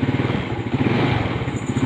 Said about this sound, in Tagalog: umandar na yung motor